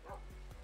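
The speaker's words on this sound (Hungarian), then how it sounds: "És akkor ott egy kutya." A dog in a video game, apparently Minecraft-style with zombies and villagers, lets out three short yips or barks in quick succession, faint and low in a quiet game mix.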